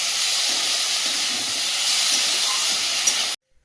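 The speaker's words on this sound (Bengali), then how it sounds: "ভালো করে কষিয়ে জল দিয়ে দিলাম" Water poured into a pan of sautéed bitter gourd curry sends up a loud, steady steam hiss. It sounds close and continuous for about three seconds, then cuts off abruptly.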